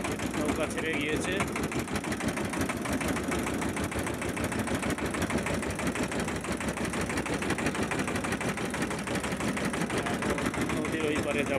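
A motor boat engine on the Teesta river near the barrage, in monsoon floodwater, chugs steadily and loudly throughout, with a constant throbbing drone and voices talking over it.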